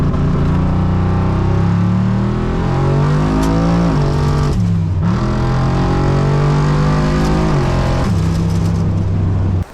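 A Maliboost car launching hard down a drag strip, loud engine roaring and climbing through gears with tire spin, the revs dropping and surging again at each shift, close and continuous.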